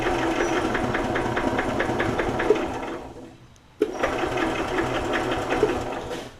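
A Kawasaki engine in a Club Car DS golf cart cranks and sputters as it tries to start, a loud, fast rhythmic chugging that drops away for a moment, then resumes after a sharp pop.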